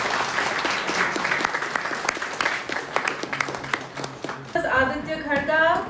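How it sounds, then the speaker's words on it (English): Children clapping in applause at a national-level school robotics competition event, a dense burst of many small hands for several seconds, then giving way to a different tonal sound near the end. "Children, at least clap."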